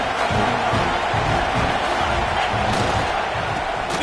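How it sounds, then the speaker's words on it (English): A football stadium crowd roars continuously during a game in the red zone, a loud, dense wash of massed voices and cheering that holds steady throughout with no pauses. "This crowd knows when to bring it."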